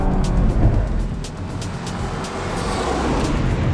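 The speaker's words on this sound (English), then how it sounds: "Now I'm driving the Bridgestone Potenza" Steady road and engine rumble from a car running on Bridgestone Potenza RE71R extreme performance summer tires, a constant close, loud roar of tire and motor noise with no voices.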